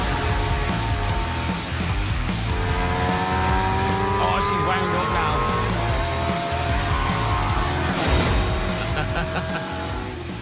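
A Trabant car races hard around a track, its engine roaring continuously while the tires squeal through the corners, loud and close throughout.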